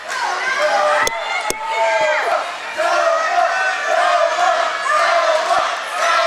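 Crowd cheering and shouting at a live women's wrestling show, a loud, sustained roar of voices with a few sharp slams and thuds, and commentary talk running over it.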